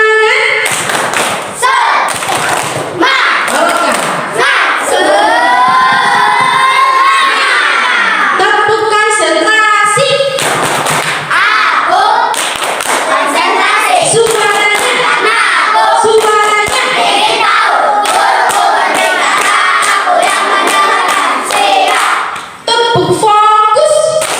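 Students at a school speech competition opening perform a rhythmic group spirit clap, sharp unison claps and thumps in a patterned sequence, mixed with loud chanting and shouted voices throughout.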